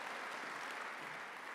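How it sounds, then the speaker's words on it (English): An audience at the 2024 Stanford Athletics Board Awards claps for an award recipient, a steady wash of applause that is fairly soft and distant, holding evenly throughout with no speech. "Go ahead and clap, that's fine."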